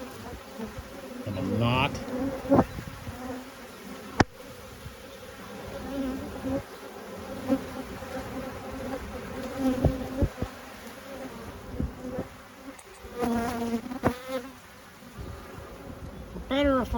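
Bees buzz in a queenless hive, a soft, continuous droning hum close by with brief louder swells, and a voice speaks briefly.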